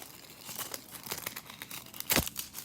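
Nail-art foil is handled and crinkled in a run of soft, papery crackles, ending in one sharper, louder crinkle close by with no talking.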